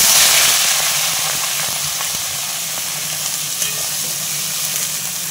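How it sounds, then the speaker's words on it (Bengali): Vegetables frying in a pan in a home kitchen give a steady, loud, continuous sizzle with a faint stirring scrape and no talking. "তো চলো এখন এই ভাজাটা চাপিয়ে দিই।"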